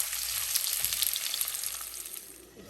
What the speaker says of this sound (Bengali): কয়েকটা এলাচ দিয়ে একটু পেঁয়াজটাকে একটু হালকা ভেজে নেব